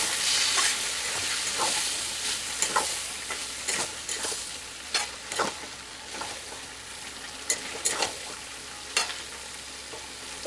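Jackfruit cooks in a pan after a little water goes in, a steady soft sizzle with repeated clacks and scrapes of a spoon stirring, close and moderately loud.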